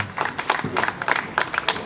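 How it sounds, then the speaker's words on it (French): Scattered clapping from a small audience after a call for applause, uneven bursts of hand claps rising and falling, fairly close with no talk over it. "applaudissez-nous, s'il vous plaît."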